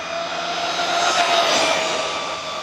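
An FMS FMT10 RC monster truck on a 4S battery races by, its electric motor a high, steady whine with tonal harmonics that swells as it passes nearby and then eases off.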